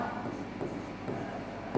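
Chalk or marker scratches steadily across a classroom board as decimal numbers are written, a continuous close rubbing with small strokes and taps, without speech.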